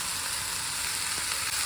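Garlic and ginger fry hard in hot oil for mutton keema balls curry, giving a loud, dense, continuous sizzle with no pauses.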